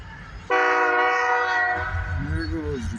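A slow-moving train passing an old park blows a sustained, loud horn for about two seconds over the low rumble of rolling cars, followed by a shorter, fainter horn note.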